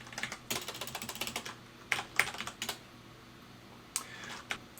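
Typing on a computer keyboard during a browser-scripting demonstration, with irregular bursts of key clicks, some quick runs and several sharper isolated strikes, fairly close and clear with no voices.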